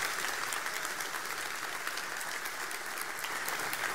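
A church congregation applauds after a baptism blessing, a steady, dense wash of clapping from many hands filling the room at moderate loudness, with no one speaking.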